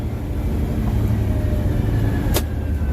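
A big truck engine rumbles steadily from inside the cab at about 30 mph as the throttle opens, a continuous low drone with no talking.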